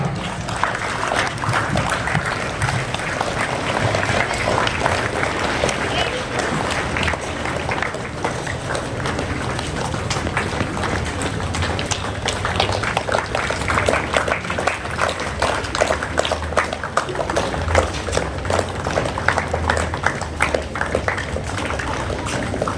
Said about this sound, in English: I request you all to welcome them with a round of applause